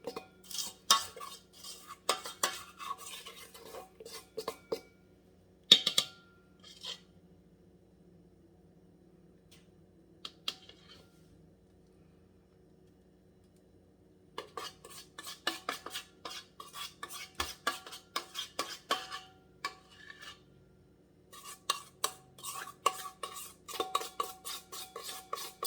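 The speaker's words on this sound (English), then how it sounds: "I'm going to divide the mixture between both pans" A spoon scrapes and taps against bowls and parchment-lined cake pans as batter is divided between them, in bursts of clinking and scraping with quiet pauses, close and fairly soft.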